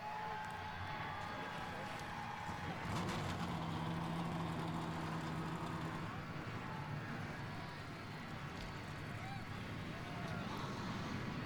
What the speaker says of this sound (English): 42 engines roar to life here in Colorado